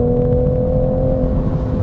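A 2025 Toyota Supra engine held at steady revs under acceleration, a loud continuous droning tone with stable harmonics and no break, heard close from inside the car with no talking.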